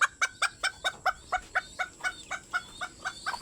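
Sir Ama gamefowl, a rooster among chickens, give a steady run of about fifteen loud, close clucks in an even rhythm, with no other sounds between them.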